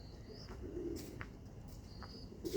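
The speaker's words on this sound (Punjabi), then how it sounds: "ਕਾਫੀ ਕਬੂਤਰ ਆਉਂਦੇ ਨੇ ਇੱਥੇ" Soft pigeon coos sound faintly a few times against a steady low background hum, with no voices present.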